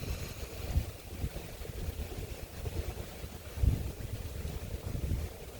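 Wind gusts buffet the microphone outdoors near a smoky fire, a continuous low rumbling roar that swells and eases in uneven surges with no talking.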